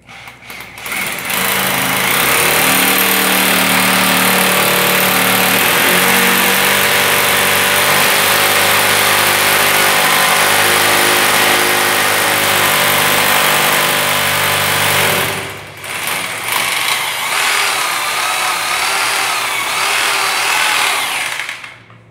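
A power drill boring holes into a floor to anchor a toilet, its loud steady whine running continuously for about fifteen seconds, then stopping briefly before starting again.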